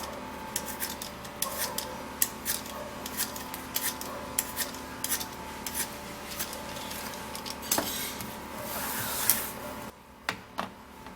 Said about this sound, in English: you're going to actually peel off the Irish potato